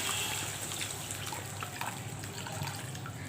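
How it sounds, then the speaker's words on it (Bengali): Water poured into a cooking pot for a fish curry with mustard paste and potatoes, a steady close splashing trickle that continues throughout without talking. "তো এরপরে আমি দিয়ে দিচ্ছি জল"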